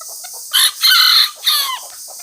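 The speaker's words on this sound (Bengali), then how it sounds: "এই ছানি মুরগি কি কেরায় দেখছো।" A chicken calls loudly and close by, giving three bursts of clucking and squawking with short gaps between them, over a steady background hiss.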